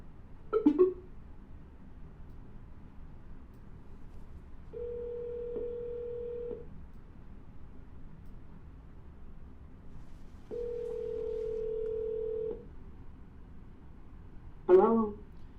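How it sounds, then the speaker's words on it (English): A telephone call being placed: two long steady ringback tones sound several seconds apart, bracketed by short clicks of handling the phone at the start and end, with a quiet line hiss between. "I'm going to pick up the phone and start dialing"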